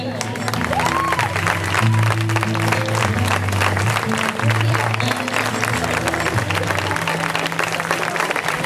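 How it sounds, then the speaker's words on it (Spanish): A crowd at the Joc Solidari 2015 charity show bursts into loud, sustained applause and cheering after a dance and music performance. Tonal voices and music carry on underneath. "Un fuerte aplauso, por favor, ha estado increíble."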